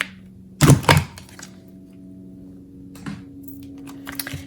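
Scissors cutting rounded corners on one side of a larger paper strip for a handmade gift box: a pair of quick, crisp snips close by, followed later by softer paper rustles and small handling sounds, no talking.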